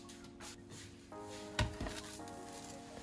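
A knife slices through a baked potato casserole topped with melted cheese, giving a couple of short, close chopping thuds against the dish with faint background noise.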